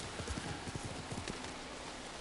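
Horse hooves clip-clopping in Ghost of Tsushima, a steady trotting rhythm of close, distinct hoof strikes over a soft ambient bed, with no talk.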